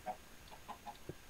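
Chickens on a farm in the video game Minecraft, heard from somewhere below the farm: several soft, faint clucks spaced irregularly over a quiet background.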